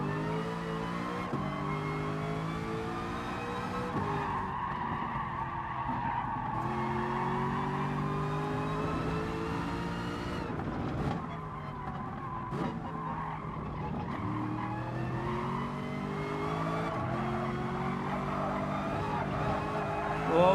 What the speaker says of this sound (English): Pretty much every car in Gran Turismo needs a better exhaust mode.